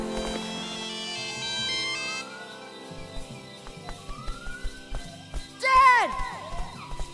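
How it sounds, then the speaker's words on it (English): A satellite phone plays a jingle ringtone in a Lego cartoon, a bright rising melodic chirp arriving late over background music and effects, fairly loud and brief. "It's my dad's satellite phone."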